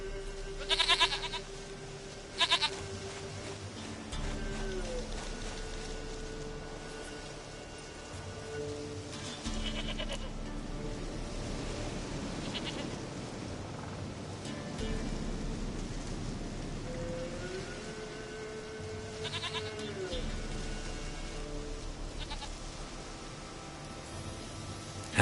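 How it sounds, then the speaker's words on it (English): Goat bleating in The Witcher 3, a few short bleats near the start and again later over a steady bed of rain-like game ambience and low tones. "Goat of mine, dearest, sweetest goat."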